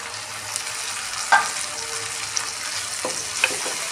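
Green peas frying with carrots and cashews for upma biryani, a steady close sizzle with a few faint stirring taps and clinks scattered through it, no talk.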